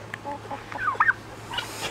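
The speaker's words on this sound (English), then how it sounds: "So the ducks and the turkeys and the guineas and those three chickens." Farm poultry including ducks, turkeys, guinea fowl and chickens call in a pen, short gobbling and clucking chirps overlapping close by over a steady low hum, with no talk.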